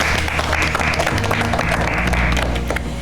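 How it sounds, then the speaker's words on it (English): A group of contestants in a cooking show kitchen applauding themselves, with dense clapping and some crowd noise mixed with low background music, close and loud for the whole stretch. "I think you can give yourselves a round of applause."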